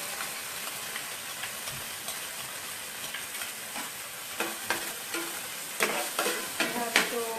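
Vegetables stir-frying in a pan with oyster sauce, a steady close sizzle with scraping stirring strokes that grow more frequent and pronounced toward the end.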